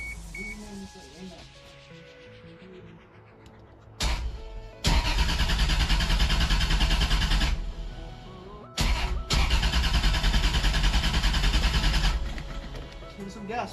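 A Toyota Supra with a swapped-in 2JZ engine cranks and catches, then roars loudly in two bursts separated by a brief cutout, with a faint beep and quiet voices beforehand.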